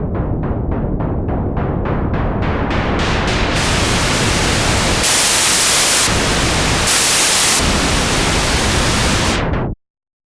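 A software MiniMoog Model D noise generator hisses steadily and loudly, sweeping between white and pink noise as the tone brightens in steps, with two brighter bursts, then cuts off abruptly near the end.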